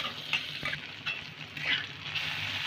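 Soya chunks and tomato fry together in a pan, an even sizzle broken by scraping stirs and small spatters, close and fairly soft.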